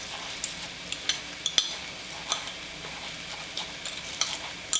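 A spoon stirring a raw egg into kasha (buckwheat groats), soft wet mixing with light irregular clicks and taps against the bowl, close and fairly quiet, no speech.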